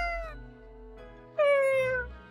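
A cat meows twice in the video game Death and Taxes, a clear falling meow followed after a short pause by a louder, longer one, close and alone with no talk.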